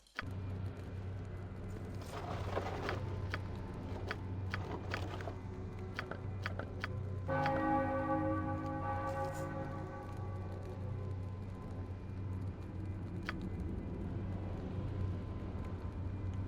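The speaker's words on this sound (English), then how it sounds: "the only thing we're really doing is ring the sacred bell" A sacred bell rings at an altar in Baldur's Gate 2, a sustained resonant tone with a long fading ringing tail over a steady low game drone, after a few light clicks.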